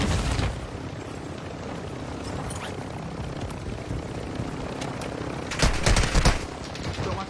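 Gunfire in the Call of Duty Warzone video game, aimed at the player: a few sharp shots at the start, then a louder cluster of cracks near the end, over a steady rumbling background.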